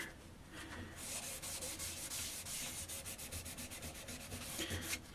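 Linseed oil is rubbed by hand into a carved, turned wooden skull mug, giving a close, continuous scratchy rubbing with quick rhythmic strokes.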